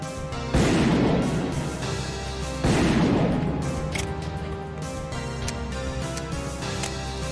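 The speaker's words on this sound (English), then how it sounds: "So the sounds of the shotgun is great." A multi-barrel shotgun fires in the game Dead Trash. Two big, loud blasts crash out a couple of seconds apart, each trailing off into a long ringing decay, and then softer mechanical clicks follow, suggesting a reload.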